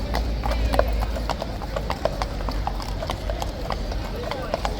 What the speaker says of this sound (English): Our final shot for this video, people, will be these magnificent police horses.